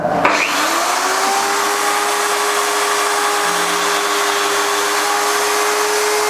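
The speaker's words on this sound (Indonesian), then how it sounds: "Sekarang coba bor akan dinyalakan ya." An electric drill powered on in a circuit-measurement demonstration, starting with a brief rising whine and then running steadily at a constant high-pitched hum for several seconds, loud and close with no talk over it.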